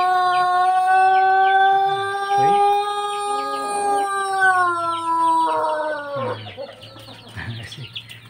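A Pelung rooster on a chicken farm in Cianjur, West Java, gives a long, drawn-out crow with a steady ringing tone that drops in pitch at the end, loud and close, followed by some quieter clucking and noise.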